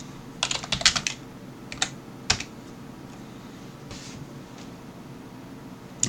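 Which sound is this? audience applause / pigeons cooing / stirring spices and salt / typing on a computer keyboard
typing on a computer keyboard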